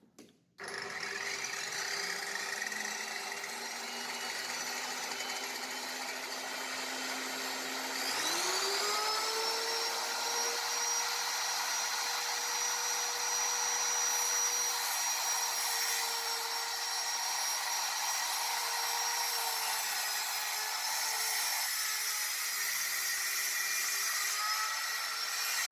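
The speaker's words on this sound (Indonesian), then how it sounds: "akhirnya singkat ceritanya saya bisa lah pakai circular saw ini untuk" A small 700-watt circular saw runs on a dimmer in a home workshop, whining steadily; partway through its pitch jumps higher and holds as a loud, continuous motor drone.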